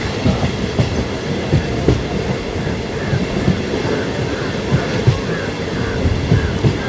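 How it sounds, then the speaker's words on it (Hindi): Express train rolling into Narkhed Junction in Maharashtra, heard from on board: a dense, continuous rumble with rhythmic clickety-clack of wheels over rail joints, loud and close throughout, no voices. "चलिए आपको नारखेड़ जंक्शन पे अराइवल लेते हुए दिखाएंगे।"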